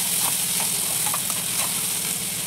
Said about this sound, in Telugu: ఇప్పుడు ఆనియన్ పచ్చిమిర్చి కూడా వేస్తున్నాను. వేసి బాగా కలుపుకోవాలి.